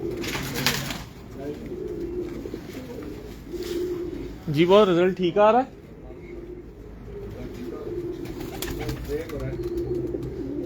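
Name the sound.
pigeons cooing on a rooftop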